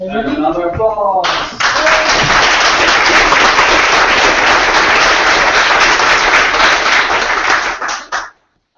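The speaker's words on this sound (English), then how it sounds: "And another applause." Audience of a startup weekend event in Tokyo breaks into sustained, loud, dense applause lasting about seven seconds before stopping abruptly, preceded by a short stretch of talking.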